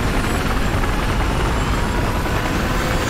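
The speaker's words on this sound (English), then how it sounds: "Get back in the chopper if you want to go." Helicopter in the video game Battlefield 4, a loud steady rotor roar and engine whine filling the whole stretch without a break.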